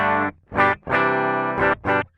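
Heavy distorted electric guitar run through a JOYO GEM-BOX-III multi-effects processor, five loud chugging chords and held notes with short gaps between them, played alone with no talking.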